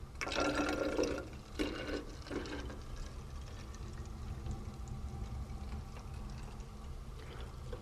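Diluted car-detailing liquid pouring into a Flairosol spray bottle, a splashy gurgle in short bursts at first, then a quieter steady trickle and fill.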